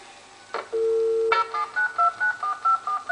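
Telephone keypad tones: a long steady tone, then a quick, evenly spaced series of short dialing beeps, loud and clear with no talk.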